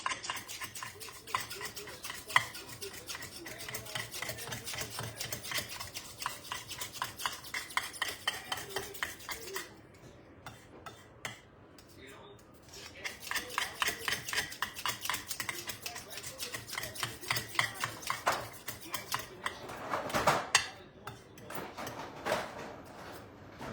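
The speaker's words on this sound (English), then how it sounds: "I'm going to show you guys how I chop my green chili" Green chili chopped with a knife on a board, giving fast rhythmic chopping taps that run in bursts with brief pauses, close and fairly loud.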